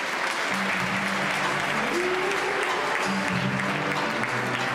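An audience at a Miss Saône-et-Loire beauty pageant applauds continuously and evenly, with dense clapping filling the room and a faint voice murmuring underneath.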